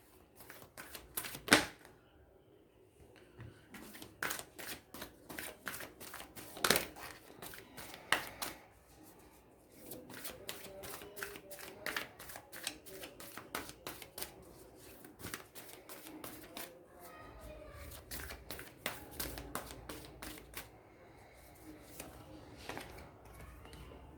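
Tarot cards shuffled by hand in a dense, continuous run of crisp riffling clicks and flutters, close and moderately loud, with brief pauses between bursts and no talking.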